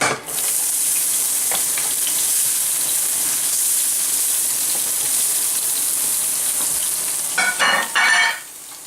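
Onions sizzling and frying steadily in a hot pan for mushroom gravy, a close, continuous crackling hiss with a few brief clatters of a utensil stirring near the end.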